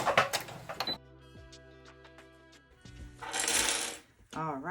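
A sewing machine back stitches over a hanging loop on a cosmetic bag, giving a short run of close, rapid mechanical ticking between stretches of nearby handling noise and a brief voice.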